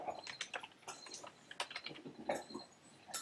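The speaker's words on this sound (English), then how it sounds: "here you'll get some kind of a capture, so you have to type that in" Computer keyboard typing while entering a captcha, a close series of irregular, quick key clicks with short pauses, with no talking.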